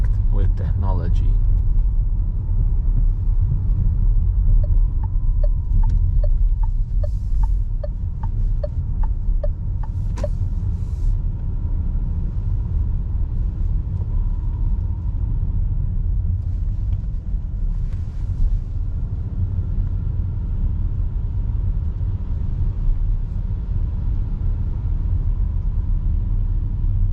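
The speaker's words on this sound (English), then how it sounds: "that was the night point of view test drive with the new Renault Austral" Renault Austral techno mild hybrid from 2023 on a night drive, a steady low road and engine rumble with faint ticking from the indicator, heard from inside the cabin throughout.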